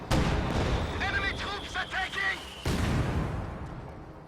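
An anti-tank gun in Company of Heroes 2 firing through a house, heavy booming shots and rumble in the game, with a person talking over the battle noise.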